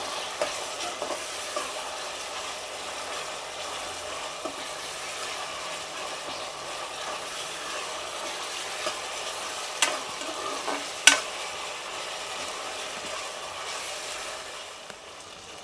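Tomato, onion and ginger-garlic paste fry in oil with a soft, steady sizzle, broken by occasional light clicks and scrapes of stirring, all fairly quiet and without talk.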